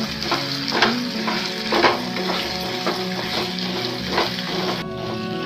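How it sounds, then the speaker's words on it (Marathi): Potato bhaji seasoned with salt and chilli powder is stirred in a frying pan, a steady sizzle and fry running throughout with repeated scraping strokes of the spoon against the pan, close and alone. "आता हे पूर्ण ढवळून घ्यायचंय."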